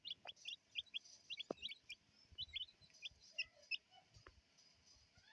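Four-day-old tiger chicken chicks on broiler feed peep in quick, high, bright chirps, several birds overlapping in scattered bursts, close by and fairly faint, with a few soft knocks underneath.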